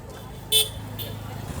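A car horn gives a short honk, then a softer second toot, over the hum of Indian street traffic with voices nearby.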